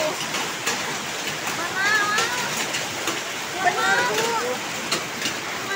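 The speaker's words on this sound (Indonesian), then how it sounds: "Hujan es, ya Allah tuh." Hail falls in a dense, steady patter on surfaces, a broad hiss with scattered sharper ticks, while people talk over it in the foreground.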